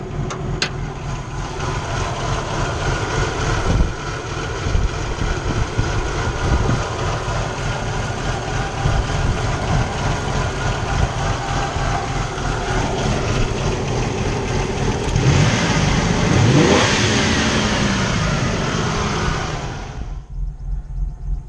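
A Nissan Xterra's VG33 engine fitted with Schneider Racing cams idles with the hood open, giving a continuous, fairly loud engine drone with a slight uneven pulsing. The sound swells briefly toward the end, then drops off, with no talking.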